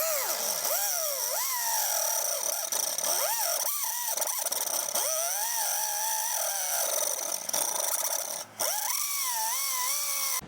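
Power tool cutting through a metal corner on a 2023 Jeep Wrangler during a winch install, a loud continuous whine that rises and falls in pitch with load, running steadily throughout with a brief dip near the end.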